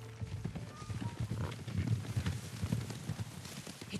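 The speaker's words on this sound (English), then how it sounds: "Horses, they're coming for us." Horses galloping in the Ghost of Tsushima video game, a quick irregular clip-clop of hooves that stays faint and fairly distant, with scattered game ambience and no clear talk over it.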